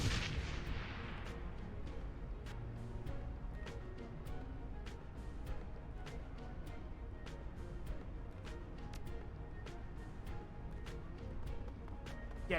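Grenade blast and rapid gunfire from the Shadowrun: Hong Kong video game, a dense continuous barrage of sharp repeated shots and booms running steadily throughout.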